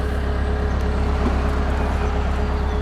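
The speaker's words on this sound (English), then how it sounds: "The engine's running. It's just warming up now." A narrowboat engine runs steadily while warming up, a constant low diesel throb with a faint tonal hum, close and unchanging throughout.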